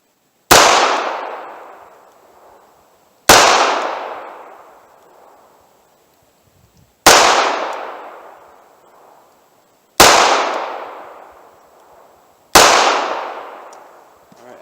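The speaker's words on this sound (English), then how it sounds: "Fire a few rounds to the snub nose" Five sharp gunshots from a .38 Special snub-nose revolver, each a loud crack with a ringing decay, spaced about two to three seconds apart at an outdoor range.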